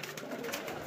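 A pigeon cooing close by, a short, soft, throaty burble that fills the brief moment with no talking.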